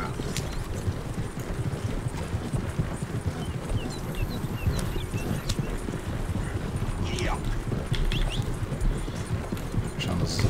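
Horse hooves clip-clop steadily in Red Dead Redemption 2 over a busy background of game sounds, with a few bright chimes and effects scattered throughout.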